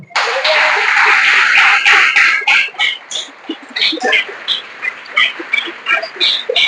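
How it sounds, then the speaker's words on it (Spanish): A church congregation claps for the Lord during a service: a dense burst of applause at first, then thinning into scattered, rhythmic claps that keep going close by. "Denle palmas al Señor."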